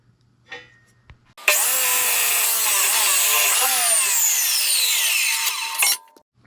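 A power tool cuts the corner off a steel trailer bumper in one loud, continuous screeching run of about four seconds, preceded by a few faint clicks and handling knocks.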